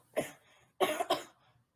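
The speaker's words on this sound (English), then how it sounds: "I coughed." A single close cough, followed after a short pause by a quick double cough, sharp and breathy against an otherwise quiet room.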